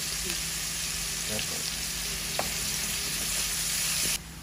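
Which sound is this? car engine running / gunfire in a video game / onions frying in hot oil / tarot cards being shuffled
onions frying in hot oil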